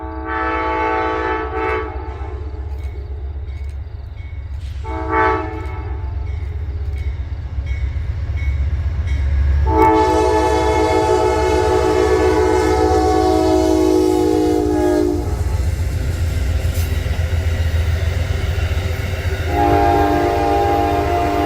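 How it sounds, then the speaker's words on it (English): An Amtrak P281 passenger train rumbles past close by with a heavy, steady roar, sounding several blasts of its horn, short ones first and then a long loud sustained blast, with no voices. "Amtrak P281 had a Pullman private car in the rear"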